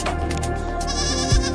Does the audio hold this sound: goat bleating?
yes